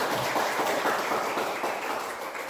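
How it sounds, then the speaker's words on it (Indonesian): Classroom applause from a group of students, a dense steady patter of clapping lasting the whole moment without fading, with no voices over it. "Ya, tepuk tangan."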